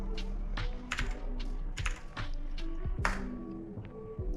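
Password being typed on a computer keyboard, a quick irregular run of crisp key taps close by, with no voices.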